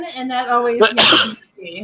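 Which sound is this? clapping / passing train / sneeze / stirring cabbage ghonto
sneeze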